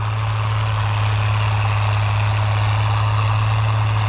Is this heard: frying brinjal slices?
no